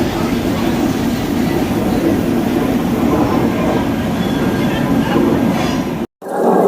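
The Lokmanya Tilak–Haridwar AC Express passes close alongside a stopped train at Bhopal, a loud continuous rumble of wheels and carriages that cuts off abruptly near the end, then resumes briefly.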